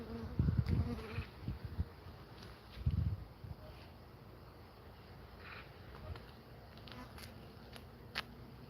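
Honeybees buzzing during a beehive inspection as frames are scanned, a continuous close hum with a few louder bursts of handling noise near the start.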